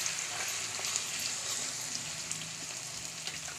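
Crushed garlic hits hot oil in a kadhai for tempering and sets off a soft, even crackling sizzle that continues without a break, with no talking over it.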